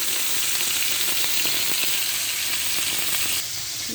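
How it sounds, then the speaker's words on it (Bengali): Pieces of fish frying in hot oil give a loud, steady, dense sizzle that runs unbroken, easing slightly near the end, with no voices. "মাছগুলো আমি ভেজে নিচ্ছি দেখেন"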